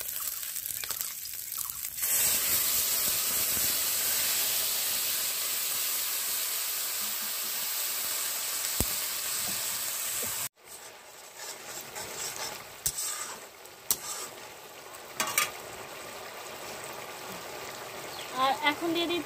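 Broth and vegetables go into a hot pan in a village kitchen, making a steady hiss that shifts abruptly partway through, followed by intermittent scraping and stirring noises up close.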